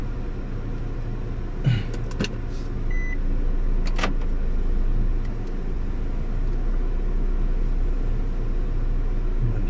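A car drives through a heavy, dark sandstorm, with a loud, constant low engine and road rumble under broadband wind noise and a few faint clicks and beeps inside the cabin.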